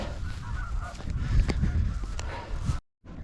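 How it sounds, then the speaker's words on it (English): Several geese honk loudly and repeatedly close by in the morning on a coastal hike between Brighton and Eastbourne, a noisy overlapping chorus that cuts out briefly before resuming. "those geese are very noisy this morning"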